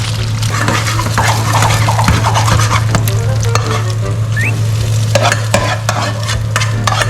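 Loud, steady sizzling of eggs frying in a hot pan, with scraping and stirring noises and a low hum throughout.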